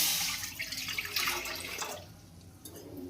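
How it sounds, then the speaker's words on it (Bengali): Water is poured into a nonstick kadai set up for steaming momos, splashing loudly at first and then trickling off into a faint patter. "কড়াতে জল দিয়ে দেবো"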